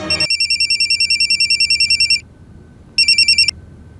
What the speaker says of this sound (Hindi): सर रिंग जा रहे हैं अंदर।